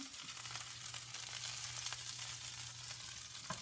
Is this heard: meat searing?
yes